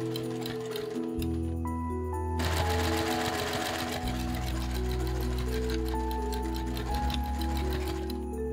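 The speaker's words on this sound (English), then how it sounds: "sew together your outer stocking pieces with a 1/2 inch seam allowance" A sewing machine stitches together outer pieces of a quilted Christmas stocking, running at a fast, steady rhythm close by for the whole stretch, loud and continuous with no talking.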